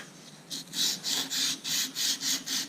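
Plumber's sandpaper scrubbing the shaft of a Troy-Bilt Horse rototiller, a steady back-and-forth rasping in about seven even strokes, close and alone.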